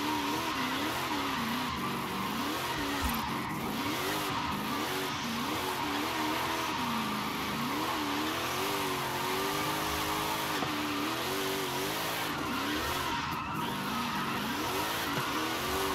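Mercedes wagon drifting in Forza Horizon 5, tires skidding and squealing continuously over a wavering, revving engine, loud and sustained for the whole stretch.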